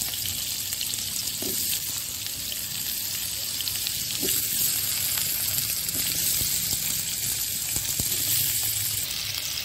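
Potatoes fry in hot oil with a continuous close sizzle and crackle, and faint clinks and stirring noises come and go over the top.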